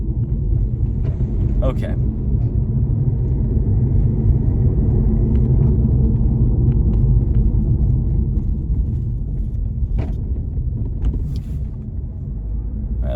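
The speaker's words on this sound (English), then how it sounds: "What is up with all the 18-wheelers?" Heavy 18-wheeler trucks rumble along a neighborhood road in Melissa, Texas, heard from inside a moving car as a steady, loud low drone, with a person speaking briefly.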